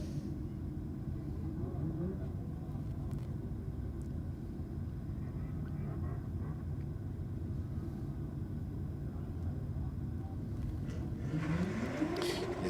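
Two BMW cars drag racing side by side at Sydney Dragway: a steady, heavy engine rumble runs throughout, with rising revs swelling near the end, under a commentator's talk.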